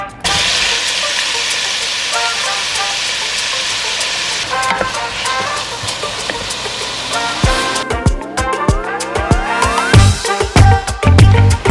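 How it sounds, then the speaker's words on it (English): Onion, beef and pork sauté in hot oil in a Mexican kitchen, giving a steady, close sizzle and hiss. Clanks and stirring sounds break in toward the end. "Now we saute some onion with oil and we add beef and pork."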